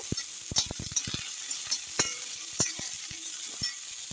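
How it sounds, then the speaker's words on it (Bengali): Chopped carrots and beans are stirred in a pan, a spatula scraping and tapping in irregular strokes over a soft continuous sizzle, close by and without voices. "এক মিনিট গাজর আর শিমটাকে নাড়াচাড়া করে নেব।"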